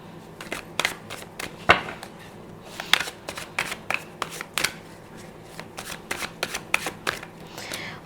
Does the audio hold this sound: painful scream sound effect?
no